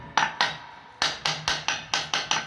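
Light hammer taps on an electric scooter hub motor during fitting, about eight sharp metallic knocks in an uneven rhythm, close and clear with no talking.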